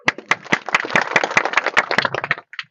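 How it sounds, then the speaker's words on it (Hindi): An audience at a gathering claps together in a steady, fairly quick rhythm of sharp hand claps, close and loud, with no talking, fading out near the end. "ताली बजाओ"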